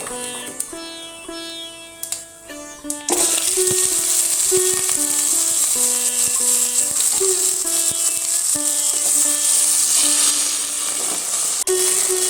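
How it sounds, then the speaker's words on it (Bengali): Potatoes fry in mustard oil with a bay leaf and five-spice seasoning, giving a continuous bright sizzle that starts a few seconds in and carries on under background music. "আলুগুলো প্রথমে একটু ভালো করে ভেজে নেব।"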